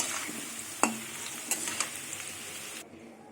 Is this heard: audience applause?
no